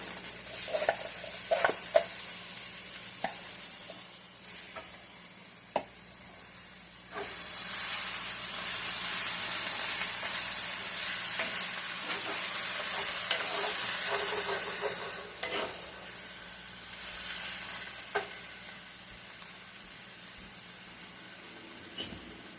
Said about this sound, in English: Going to start frying them now in here.